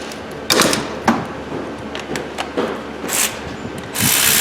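A socket ratchet clicks in short bursts while undoing a bolt during front wheel bearing work on a Pontiac G6 GT, the sharp metallic ratcheting close and separated by pauses.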